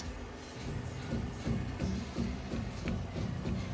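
A FOX 3.0 shock absorber on a 2023 Polaris Pro R side-by-side makes a quiet, irregular knocking and shuffling rumble, with soft uneven thumps continuing through the whole stretch.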